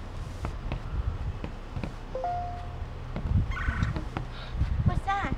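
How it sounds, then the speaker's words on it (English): Outdoors during a heavy snowstorm, a turkey-like bird gives short gobbling calls in the distance, faint and intermittent over low wind rumble and shuffling movement. "What's that? I think it's a bird."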